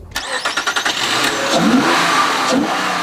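A 3.5-liter V6 single overhead cam VTEC car engine cranks in quick rhythmic pulses, catches, then revs up loudly and settles, close by.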